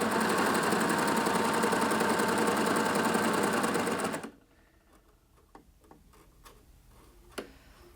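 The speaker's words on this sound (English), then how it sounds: "there's also a technique where you can sew it using 2 needles in your cover stitch needle bar" Coverstitch machine sewing shirring with two needles: a loud, fast, even mechanical run for about four seconds that stops abruptly, followed by quiet with scattered small ticks and clicks of the machine and a sharper click near the end.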